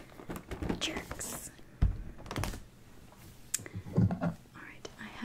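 Fingers tap and drum on a Pokemon Hidden Fates Ultra Ball collection box, a dented cardboard case, in soft irregular close-up knocks and patters, with quiet whispering woven between them.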